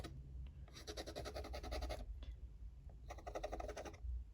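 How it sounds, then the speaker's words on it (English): Scratching through layered oil pastel, two bursts of quick, close rhythmic scraping strokes separated by a short pause, faint overall. "It just scratches it off to the underlayers."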